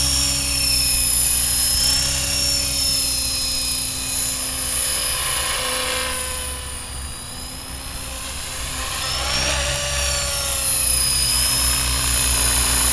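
A Trex 600 RC helicopter flies close by, its high rotor and motor whine sustained and loud throughout, dipping slightly mid-clip before swelling back as it passes nearer again.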